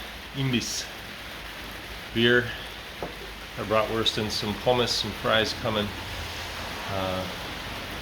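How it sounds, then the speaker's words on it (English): Steady rain hiss falls at a bus stop beside a German snack bar during a cycling trip, running as a constant wash under a man's close, chatty talk throughout. "I think I'm just going to have to eventually ride in the rain."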